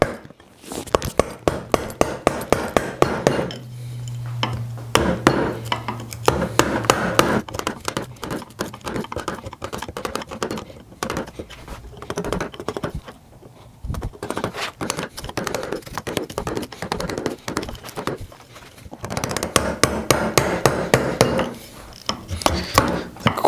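A chisel chops a mortise into the wooden frame of a treadle lathe, with bursts of sharp, rapid mallet strikes separated by brief pauses, close and crisp.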